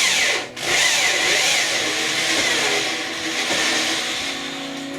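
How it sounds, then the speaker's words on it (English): A drill boring a hole through the inner metal pipe of a catamaran mast, a steady whining grind that runs continuously after a brief stop near the start, close and loud. "To drill the hole in the inner pipe in the correct location"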